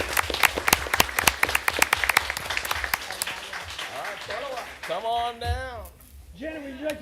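Audience applause at a school board meeting for newly certified National Board teachers, a burst of many hands clapping that fades out, followed by a person speaking over the quieting room.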